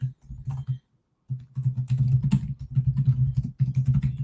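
Clicking on a computer while adding an element in an interactive-video editor, a steady run of close, crisp taps with a brief pause near the start, no talking.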